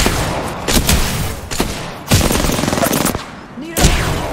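Bursts of video game gunfire in rapid, loud volleys that stop and start, with short gaps between bursts and voices calling out over the shooting.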